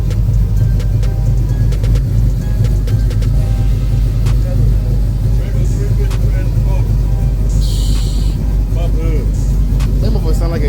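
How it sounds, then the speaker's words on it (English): A car with an LS V8 engine runs with a loud, steady low rumble and a brief rise in revs, heard close up while people talk over it. "That motherfucker sound like an LS."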